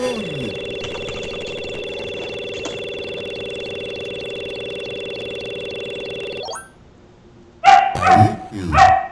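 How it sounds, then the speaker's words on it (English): A steady electronic tone holds for several seconds and cuts off, then a few loud, close dog barks follow in quick succession. "can you hear my dog barking?"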